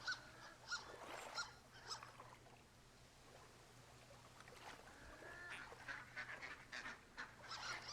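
Ducks quacking in the video game Firewatch, several honking calls scattered over a quiet outdoor ambience with a low steady hum, moderately distant.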